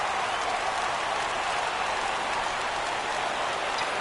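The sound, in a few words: video game baseball crowd rising on a full count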